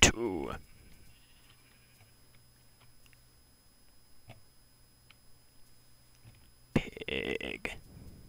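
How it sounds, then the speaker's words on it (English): Sheep bleat in a video game: one bleat at the very start, then a quiet stretch with faint ticks, then another loud bleat near the end. "Throw the wool. Here you go, sheep."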